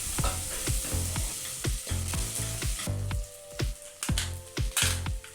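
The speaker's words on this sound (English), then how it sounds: "cooked the onions until they just softened and turned translucent before adding my ginger and garlic." Onions, ginger and garlic frying in a pan for a beef and potato casserole, a continuous sizzle broken by repeated rhythmic scraping strokes as the mixture is stirred, close and fairly loud with no talking.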